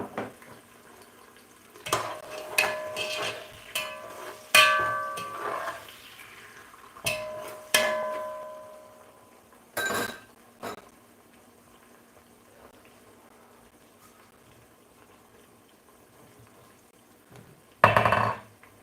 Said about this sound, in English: Allow the onions to fry a bit.